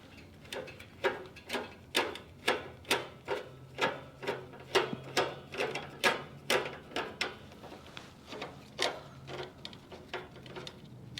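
A screwdriver fitted with a Torx bit backs screws out of a Jeep CJ5 part, giving a steady series of sharp ratcheting clicks in an even rhythm, close and fairly quiet.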